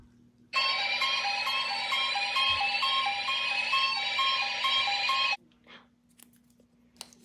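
St. Lucia's Emergency Alert System alarm sounds as a loud, steady electronic tone with a repeating beeping pattern, lasting about five seconds, then cutting off into quiet room noise.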